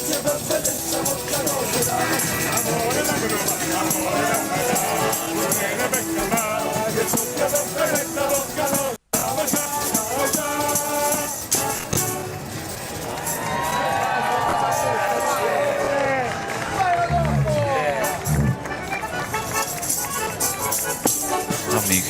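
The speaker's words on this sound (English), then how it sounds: "you can hear cheers from the crowd there" A crowd cheers at a New Year parade through Rome near the Spanish Steps. Loud, sustained cheering and whistling mixes with the music and singing of performers in traditional Italian costume, while voices talk nearby.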